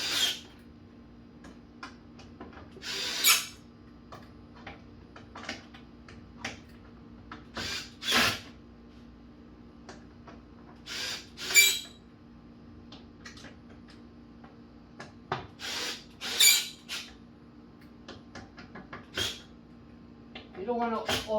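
A power drill tightens screws into the plastic lower door of a 2021 UTV in short bursts, a dozen or so brief whirs separated by quiet pauses, close by and moderately loud.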